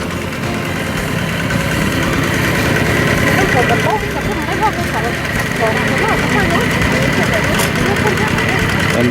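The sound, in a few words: small motor tractor with wheels and long handle running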